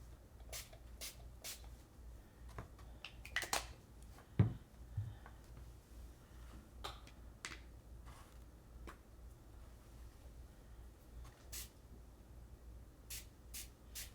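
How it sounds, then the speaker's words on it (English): Short bursts of spray hiss from a spray bottle of colour ink, yellow and pink, scattered across a quiet stretch with a few soft taps and clicks in between. "Spraying the yellow and pink together, get orange."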